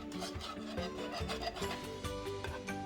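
A whisk scrapes and beats a thick mac and cheese sauce in a pan, quick, close, soft repeated scraping strokes in a steady rhythm.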